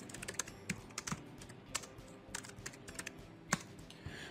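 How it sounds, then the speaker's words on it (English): A command typed on a computer keyboard at a console, quick irregular bursts of crisp key clicks and clacks, close and fairly quiet, with a firmer tap near the end and no talk. "So let's go to the console and type the same as we can see in here."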